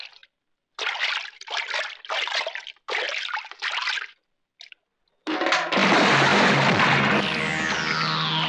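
Water pours and trickles while someone drinks, starting as several short gurgling bursts separated by gaps, then turning into a loud, steady splashing stream that runs to the end.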